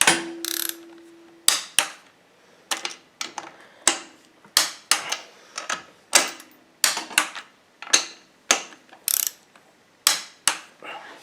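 A ratcheting torque wrench tightens the top-end bolts on a 2010 Yamaha YZ450 engine, producing short bursts of sharp mechanical clicks in repeated strokes, close up, separated by brief pauses.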